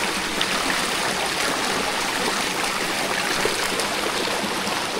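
Clear mountain stream water in Mindoro rushing steadily nearby, a dense, even wash of flowing water with no pauses and no voices.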